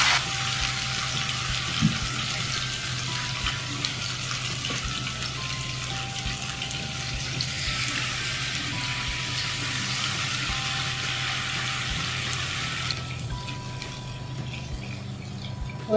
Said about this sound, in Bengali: তেলটা গরম হয়ে এসেছে। এখন আমি চিকেনগুলোকে এর মধ্যে ছেড়ে দিচ্ছি।